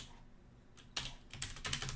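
Quiet clicks on a computer keyboard: a few isolated keystrokes, then a quicker burst of typing as a command is entered, close and crisp with no talking.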